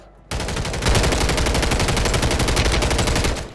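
Video game gunfire bursts in suddenly after a short quiet start, then rattles on as rapid, loud automatic fire with closely spaced shots for about three seconds.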